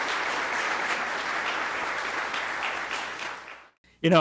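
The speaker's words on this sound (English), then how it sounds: "giving these employees one more time a round of applause" A crowd at the 2018 Oklahoma Municipal League service awards applauds steadily for several seconds, a dense wash of clapping that cuts off before a voice begins speaking.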